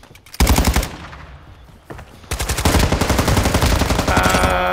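Gunfire in Call of Duty: Modern Warfare II, with loud rapid automatic bursts, a short lull, then a long sustained stream of shots close and dominant.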